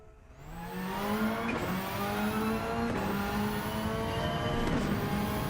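A Subaru 22B's 2.2-litre rally boxer engine in Gran Turismo 7 revs steadily and loudly through gear changes, its pitch climbing and dropping repeatedly with no talking.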